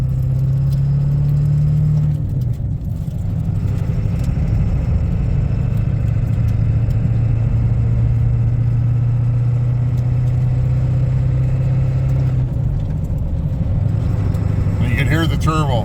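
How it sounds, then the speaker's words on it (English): A pickup truck with a 4-inch exhaust pulls in third gear from about 1000 RPM, its engine drone rising steadily for around fifteen seconds while a faint turbo whistle builds near the end. "This thing definitely throttles up better now."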